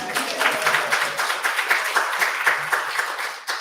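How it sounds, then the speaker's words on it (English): Church congregation giving a round of applause: a fairly loud, sustained wash of many hands clapping in a mostly steady rhythm, with no voices over it. "go ahead, give her a round of applause"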